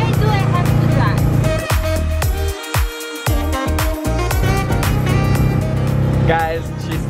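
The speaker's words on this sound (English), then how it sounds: "I'm riding my terrain vehicle and I'm really good at it." An all-terrain vehicle drives with a loud, steady engine drone that dips briefly in the middle, while people talk and call out over it throughout.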